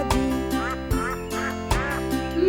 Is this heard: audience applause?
no